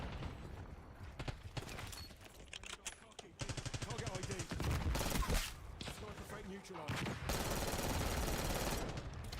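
Compact gun in Black Ops 6 firing in quick repeated bursts, a steady close rattle with short gaps, heard fairly faintly under a player's ongoing talk and other game sounds.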